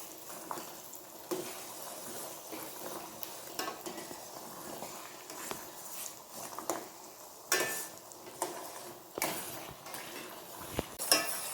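A spoon stirs and scrapes through thickening tamarind rice mixture in a pot, giving soft irregular scrapes and occasional metallic clinks against the vessel, with a faint sizzle underneath.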